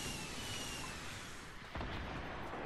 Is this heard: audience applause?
no